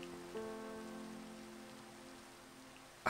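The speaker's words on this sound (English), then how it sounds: "And it's raining." Rainfall in the Minecraft video game, a soft, steady patter of rain on surfaces that stays faint and even throughout with no voices.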